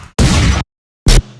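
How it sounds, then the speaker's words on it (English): A loud gunshot sound effect in a tearout dubstep track, a bright, noisy burst, then silence and a second short, punchy bang followed by a low rumble. "And then the actual gunshot."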